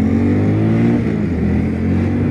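A Honda Monkey or Grom mini motorcycle idles and runs close by on its stock exhaust, giving a steady, even engine drone with a faint rise in pitch and no voices over it.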